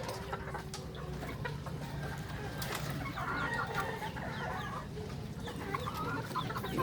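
Chickens clucking and chattering over a busy farmyard background, several birds calling at moderate distance, no one speaking.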